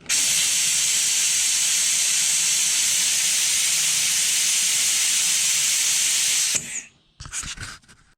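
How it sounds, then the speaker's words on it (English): Suction hiss as power steering fluid is drawn from the reservoir of a 2007 Honda Civic, a loud steady airy rush lasting several seconds, then stopping abruptly, followed by a few short sputtering bursts. "So I'm going to go ahead and suck this fluid out"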